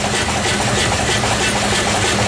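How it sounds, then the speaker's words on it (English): A V-type twin-cylinder 20 HP steam engine runs loud and close, giving a steady, dense chugging with a continuous mechanical hiss and no voices. "here is the steam engine."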